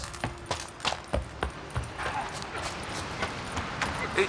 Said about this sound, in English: Oi, clumsy horse.